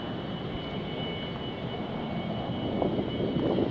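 Airplanes pass overhead, a steady broad engine roar that swells slightly louder toward the end, with no talking over it.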